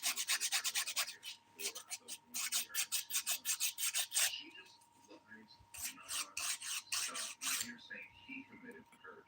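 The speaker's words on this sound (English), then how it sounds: "that's the worst when you're filing and the file keeps slipping" A nail file rasps back and forth over a polygel nail in quick, rhythmic close-up strokes, a steady run of scratchy passes, then a short pause and another burst of filing.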